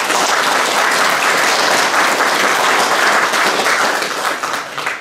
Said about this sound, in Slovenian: Mislim, da se zaslužijo aplavz